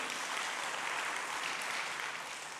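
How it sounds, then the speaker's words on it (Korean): Church congregation applauding during a Sunday worship service, a steady wash of clapping from many hands that stays even throughout and tapers slightly at the end. "그 하나님께 영광의 박수 돌리겠습니다."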